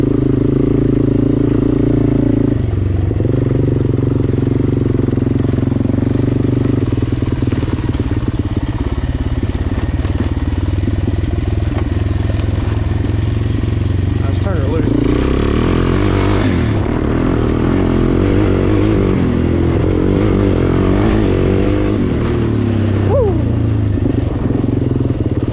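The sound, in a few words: Suzuki LTZ-400 ATV engine running and revving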